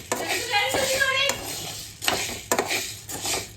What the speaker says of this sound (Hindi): इसे मैं भून रही हूँ, थोड़ा सा भून लूंगी इसे।